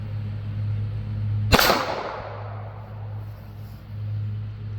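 A single sharp gunshot from an NAA mini revolver loaded with Critical Defense ammunition cracks loudly, then rings out in a decaying echo over a steady low hum.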